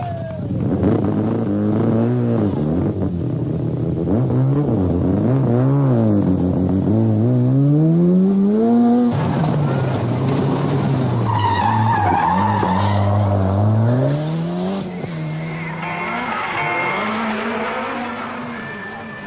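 Rally cars race flat out on the 1986 24 Hours of Ypres, among them a Volvo, their engines rising and falling through gear changes with tire skids, loud and close, passing one after another.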